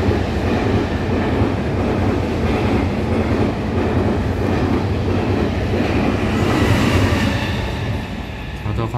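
A silver-green EMU900 ten-car commuter train on a Taiwanese rail line rumbles past at steady volume, a continuous roar of wheels and rail noise with rhythmic clatter, swelling slightly near the end.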